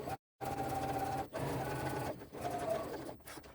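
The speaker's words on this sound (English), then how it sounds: "Sewing straight along this edge." Sewing machine runs a straight stitch along the edge of a crossbody bag with a long stitch length, a steady close mechanical whir that stops briefly near the start and pauses a few more times.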